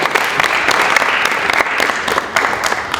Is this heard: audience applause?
yes